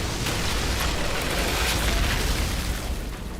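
Fire Witch Eruption skill explosions in the Outriders video game, a dense, continuous roar of booming blasts that stays loud and steady for the whole stretch with no voices.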